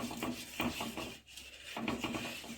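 Oil brushed across a heated pan for Bengali home cooking, soft repeated rubbing strokes close by and quiet, with a short pause midway.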